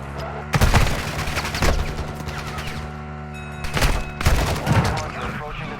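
Gunfire in the video game Call of Duty: loud bursts of rapid shots hit in two clusters, one near the start and one after a pause, with steady background ambience between them.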